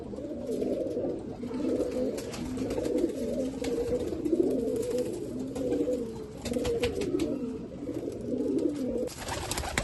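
Large breeder pigeons cooing on a rooftop, a continuous overlapping chorus of low rolling coos throughout, close and steady with no talking.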